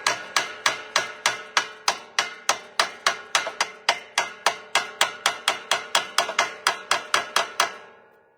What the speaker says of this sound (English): just take a hammer and just gently tap them down in